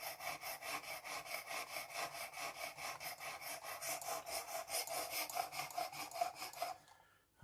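Knife blade stroked repeatedly across a Worksharp precision sharpening system stone, a steady rapid rhythm of close gritty rasping passes that continues for several seconds before stopping abruptly.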